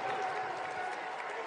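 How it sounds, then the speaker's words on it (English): Crowd applause fills a college basketball arena during a Boise State versus Utah State game, steady and broad throughout, with no distinct individual hand clapping standing out from the noise. "You saw the clapping of the hands by Milner as he was running out of the pile"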